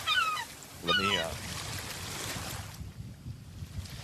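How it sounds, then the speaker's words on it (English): An ocean-wave sound effect plays on a streamed show: a continuous broad wash of surf that drops noticeably quieter near the end, with a couple of short tonal calls early on. "Let me knock those obnoxious waves down just a wee bit."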